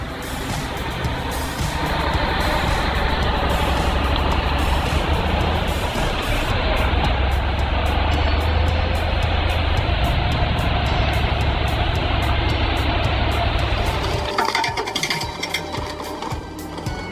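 The Mercedes 5.8 engine of a heavy tree-cutting machine runs at a continuous loud, rapid mechanical chatter with a low droning hum, shifting in character partway through and again near the end.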